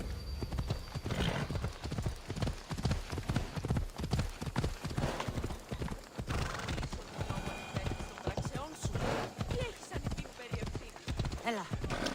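Horse hooves clip-clopping in Assassin's Creed Odyssey, a steady run of close, rhythmic hoofbeats with an occasional whinny, under talk.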